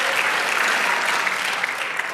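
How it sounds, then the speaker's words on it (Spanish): A church congregation applauds steadily and loudly for about two seconds, a dense even wash of clapping from many hands with scattered cheers. "Dale aplauso al Señor."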